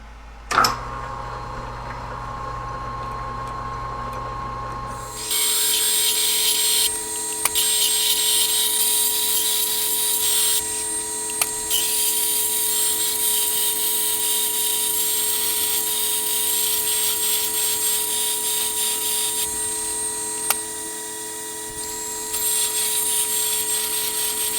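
A steel bead roller die for a 1949 Plymouth toe board part is drilled and bored out on a machine. A low motor hum gives way to a loud, steady metal-cutting whir with occasional sharp clicks, and no one speaks.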